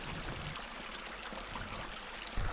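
A Colorado backcountry creek flowing steadily, a continuous broadband rush of water heard close and unbroken.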